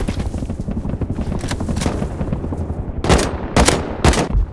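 Gunfire in the video game Rust, a run of sharp shots with three loud, close cracks near the end over a rumbling background.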